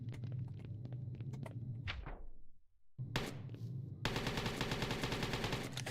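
An AK rifle fires in a horror video game: scattered sharp shots, a brief lull, then a dense, sustained automatic burst over rumbling game ambience. No voices are heard.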